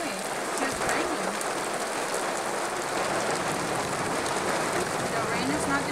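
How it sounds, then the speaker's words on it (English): Steady rain during a storm pours down in a dense, continuous hiss, close and even from start to finish. "It's just raining."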